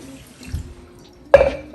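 Water and mirin poured into a kitchen vessel for ramen tare, a soft trickle early on, then a louder splash and gurgle near the end, close and alone with no talk.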